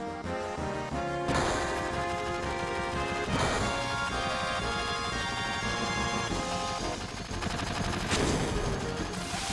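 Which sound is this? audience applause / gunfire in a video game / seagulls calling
gunfire in a video game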